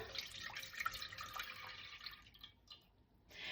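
Milk is poured into a medium saucepan on the stove, a soft, close liquid trickle and splash that tapers off toward the end.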